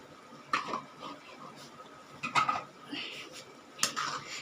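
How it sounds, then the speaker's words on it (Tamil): Water poured into a pot of chicken kurma and stirred with a utensil, a few light metallic clinks and scrapes against the pan over a soft cooking background, close and fairly quiet. "இன்னும் கொஞ்சம் தண்ணி சேர்த்துக்கிறேன்"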